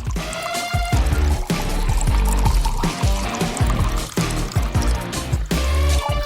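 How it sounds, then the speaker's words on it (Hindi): Fanta poured into a glass over chopped fruit and berries, a continuous fizzing pour with liquid gurgling and splashing for several seconds, fairly loud and close, no talking. "अब इस पर फैंटा डालेंगे।"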